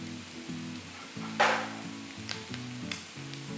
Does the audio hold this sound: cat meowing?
no